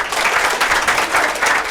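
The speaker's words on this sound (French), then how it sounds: "Applaudissez pour vous-même." Audience applause from a room of students during a live evening show, a dense, steady wash of many hands clapping close and loud throughout, with a faint voice mixed in.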